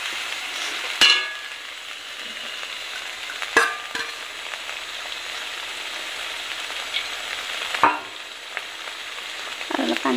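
Lentils with jackfruit seeds fry in a pan for a drumstick leaves and masoor dal dish, giving a loud, steady sizzle with a few sharp scraping stirs and clinks from the utensil.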